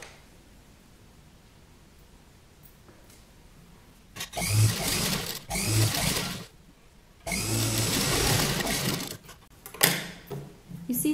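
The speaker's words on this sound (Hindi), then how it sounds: "अब हम ये साइड भी सिलाई लगा लेंगे।" Sewing machine stitching the side seam of a kurta, coming in bursts of steady whirring: a short run, another brief one, then a longer continuous stretch, alone after a quiet start.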